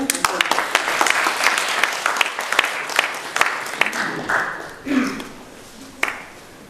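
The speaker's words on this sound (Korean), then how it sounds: "여러분 큰 박수로 부탁드립니다." An audience at a Korean community association general meeting applauds with fairly close, distinct claps that thin out toward the end, as a voice talks over the clapping.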